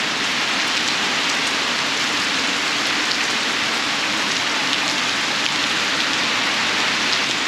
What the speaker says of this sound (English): It is very, very wet. It is the rainy season at the moment